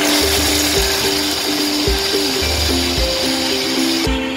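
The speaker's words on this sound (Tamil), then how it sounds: "முக்கால் பக்கத்தில் வெந்திருக்கிற கடலப்பருப்பையும் போட்டு மிக்சியில் அரைச்சிக்கலாம்" A kitchen mixer grinder blends three-quarters-cooked chana dal for paruppu boli: a loud, steady motor whine with a rhythmic thumping churn about twice a second that continues unbroken throughout.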